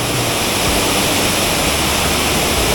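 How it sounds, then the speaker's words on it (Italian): A large mountain waterfall on a low-altitude trek at Pietrapazza roars close by as a steady, dense broadband wash of falling water, unbroken for the whole stretch. "Una cascata così grande qui da noi"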